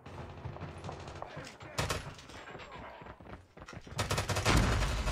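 Video-game gunfire from a HOLGER 26 converted into an SMG, firing in loud, rapid automatic bursts that run almost continuously through the clip and grow heavier near the end.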